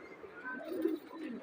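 A pigeon coos softly and briefly, a low murmuring call close by with a faint higher bird note, no talking.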